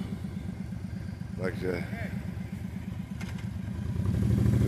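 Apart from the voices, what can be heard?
motorcycles idling and revving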